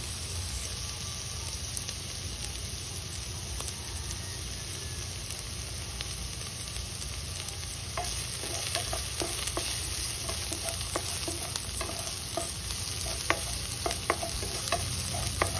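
Onions sizzle and are stirred in a pan over low heat, a steady soft frying hiss with scattered scraping and clicking stir strokes growing busier toward the end.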